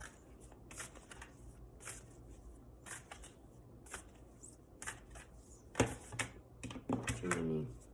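Oracle cards shuffled and drawn from the deck in close, quick rhythmic riffles and snaps, with a soft voice speaking toward the end.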